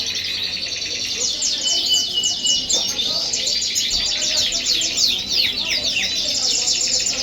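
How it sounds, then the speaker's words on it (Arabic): Many small caged birds at an animal market in Baghdad chirp and twitter busily together in a steady, high-pitched chorus, with faint background murmur beneath. "هاي الطيور قدامكم وجبه قويه موزايك اصفر ليموني كل شيء."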